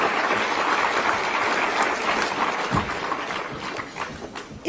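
A crowd at a public event in Delhi gives a steady round of applause, with the clapping holding a fairly even level before it thins slightly and a sharper sound comes at the end.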